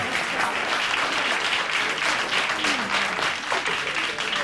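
A television studio audience applauds in a dense, even wash of clapping that holds steady throughout, fairly loud and without talk over it.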